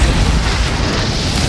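Confringo fire-blast spell from Hogwarts Legacy erupting loudly, a dense roaring explosion that holds at full strength for about a second and a half without dying away.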